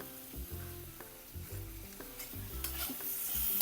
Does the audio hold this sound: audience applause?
no